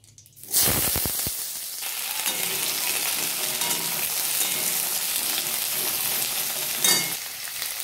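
Cut potatoes and drumstick stalks hit hot oil with cumin in a pan, bursting into a loud, steady sizzle after a brief clatter, continuing alone and evenly throughout.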